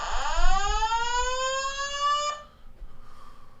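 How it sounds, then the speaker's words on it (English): A building fire alarm siren sweeping downward in pitch across repeated tones, fairly loud and clear for about two and a half seconds, then cutting off to a quiet background. "The fire alarm in this building has been activated."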